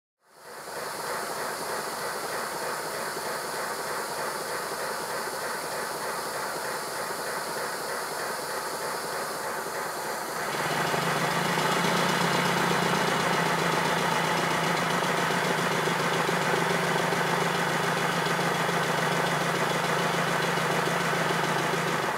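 A small 5-inch gauge live steam model of the Lion locomotive runs with a steady hiss and chuff, growing louder and fuller about halfway through as it picks up, with no voices.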